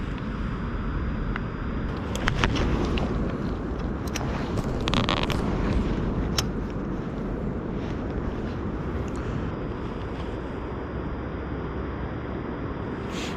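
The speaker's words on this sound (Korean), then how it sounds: "날씨 스산하고 바람 살살 불어오고" Wind blows steadily across an outdoor fishing spot on a chilly autumn day, a continuous rushing buffet against the microphone with a few faint distant knocks, no voices.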